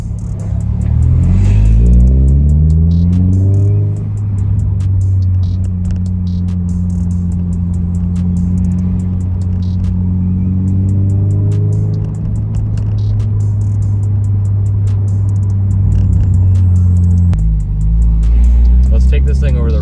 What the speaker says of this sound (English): I could definitely hear the exhaust quite a bit more.